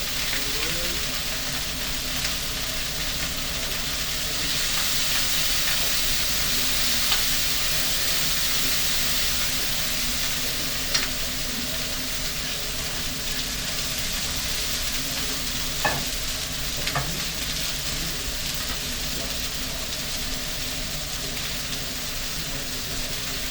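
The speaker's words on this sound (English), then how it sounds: "So I'm cooking both burgers exactly the same way." Two burgers fry in a pan, a loud, steady sizzle that hisses continuously up close, with occasional faint clicks and no voices.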